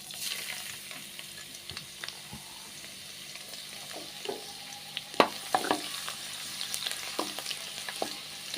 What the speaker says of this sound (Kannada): ಈಗ ಎಣ್ಣೆ ಕಾದಿದೆ. ಜಜ್ಜಿಟ್ಕೊಂಡ್ರೆ ಬೆಳ್ಳುಳ್ಳಿ ಹಾಕ್ತಾಯಿದ್ದೀನಿ.